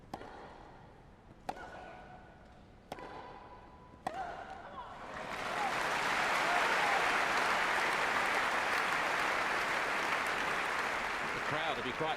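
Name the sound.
tennis crowd applause at Wimbledon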